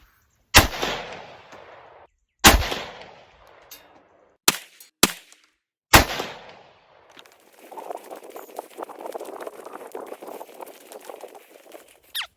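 A Ruger 57 pistol fires 40-grain Hornady VMAX rounds at an outdoor range, with five loud, sharp shots in uneven succession, each followed by a brief decay, then steady rustling background noise.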